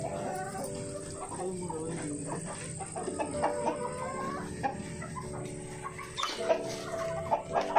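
Kadaknath fighting roosters on a country chicken farm cluck repeatedly in short bursts close by, with other fowl calling around them and a faint voice in the background.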